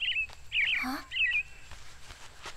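A small bird chirps in three quick high bursts near the start and middle, close and clear, with a soft squawk between them and quiet background afterward.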